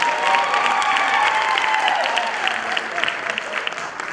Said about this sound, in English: Ladies and gents, let us give a round of applause for Dr.